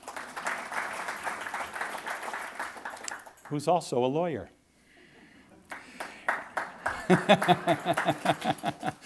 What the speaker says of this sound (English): That was a small lawyer applause